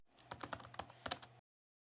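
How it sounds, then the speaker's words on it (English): Computer keyboard typing a business name: about a dozen quick, close key clicks in an irregular burst lasting just over a second, then silence. "So normally you will start by typing your business name in."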